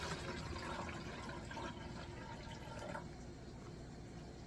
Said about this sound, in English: So first I'm going to pour some water out.